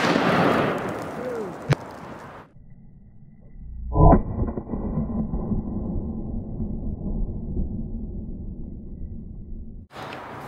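A single 10mm Dragon's Breath shotgun-style round fired at a motorcycle helmet outdoors: a sharp loud report followed by a lingering crackling hiss as the burning pellets fly, then a sudden cut.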